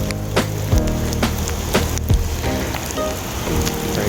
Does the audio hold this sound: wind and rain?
yes